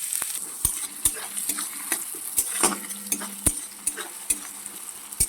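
Chopped onion drops into hot oil already tempered with cumin, dried chilli, cinnamon, cloves and bay leaf, giving a close, steady sizzle punctuated by sharp stirring clicks and scrapes of a spoon against the pan.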